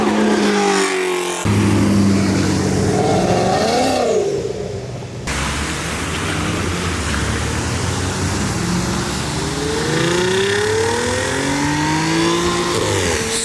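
A supercharged Audi S4 drives on wet pavement in the rain, its engine revving loud and close with rising and falling tones over steady spray and road noise, briefly cut out in the middle.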